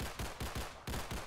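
Gunfire in the Roblox video game, a quick burst of several rhythmic shots in succession, each sharp crack repeating at a steady pace, fairly quiet and heard alone.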